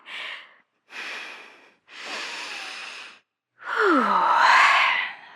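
An animated dragon-like character breathes deeply in slow, measured cycles, with four distinct loud inhales and exhales separated by short pauses, the last one longest and strained, close and alone.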